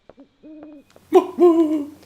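An owl hoots in the Dino Crisis video game on PlayStation: a few short, soft hoots followed by a louder, longer hooting call, heard alone and close.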